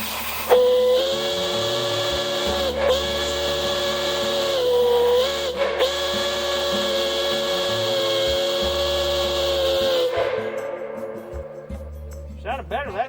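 A steam boiler being fired up to about 100 pounds of pressure lets out a loud, steady steam whistle over a hiss for roughly ten seconds, then cuts off abruptly, leaving a fading hiss.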